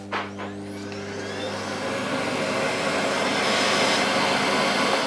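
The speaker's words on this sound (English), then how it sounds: "this time I do have it on lowest power, and it does make a rumbling noise" Hoover Sensory Floormaster TS2265 vacuum cleaner starting up on its lowest power setting, a motor whine climbing slowly into a steady, loud rumbling drone heard close up without speech.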